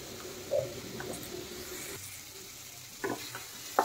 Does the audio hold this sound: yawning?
no